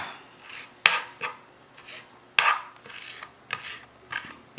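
A knife chops food on a cutting board while making guacamole, with irregular sharp thuds and scraping strokes close by, no voices.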